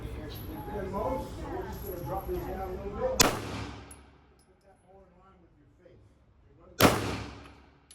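Two sharp, loud gunshots from a Springfield Armory Garrison 1911 pistol at an outdoor range, several seconds apart, each with a ringing decay, with a person talking before the first shot.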